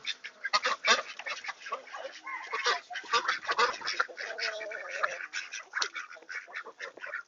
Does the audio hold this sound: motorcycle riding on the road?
no